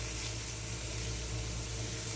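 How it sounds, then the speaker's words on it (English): Onions sautéing in a pan on a home stove give off a steady, even sizzle that carries through the whole moment. No one speaks. "I'm sauteing our onions."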